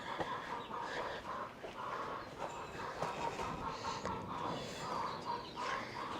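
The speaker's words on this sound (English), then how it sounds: "let me show you my chickens" Chickens cluck and chatter in a busy, steady chorus, fairly close, with overlapping calls from several birds and no pauses.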